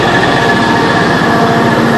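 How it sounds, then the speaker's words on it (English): A Metra MD-N locomotive engine at Edgebrook idles steadily close by, a continuous loud droning rumble with a faint high whine and no talk. "Look at that engine."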